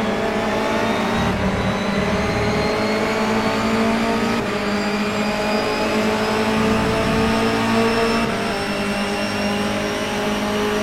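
Honda Civic race cars roar around a track in a sustained, loud engine drone with shifting revs and overlapping engine tones, close and continuous throughout.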